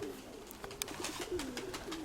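Pigeons coo softly and repeatedly in low rolling calls, heard amid a faint hiss and some light rustling.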